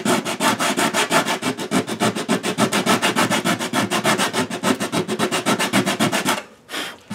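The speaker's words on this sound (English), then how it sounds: "And some 80 grit sandpaper to get the line shear and the stuff off." Coarse 80 grit sandpaper rubs back and forth on a wooden guitar neck in quick, even, close-up strokes, continuing steadily for several seconds before stopping.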